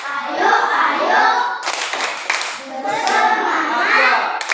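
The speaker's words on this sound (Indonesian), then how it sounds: "Guys, kita tepuk semangat ya." A group of children claps together in a rhythmic classroom spirit cheer, steady and close, with patterned bursts of hand claps and chanting voices mixed in.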